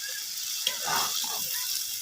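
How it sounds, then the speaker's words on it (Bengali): Fried fish hits a pan of sizzling spiced masala with a brief thud, followed by a steady hiss of frying and some stirring. "তো এই যে মশলা কষানো হয়ে গেছে, দিয়ে দিলাম ভেজে রাখা মাছগুলো"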